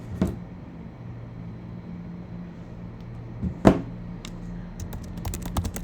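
Keys are typed on a computer keyboard while writing code, a few scattered clicks and one sharper tap, then a quicker run of keystrokes at the end over a quiet low hum.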